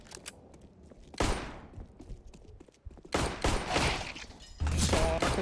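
Gunfire in a shooting video game comes in several loud bursts, one short volley followed by longer sustained rattles of shots, with quiet gaps between them and no talking.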